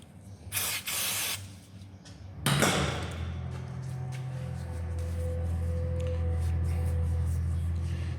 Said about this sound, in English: Give them a quick spray and see what they look like.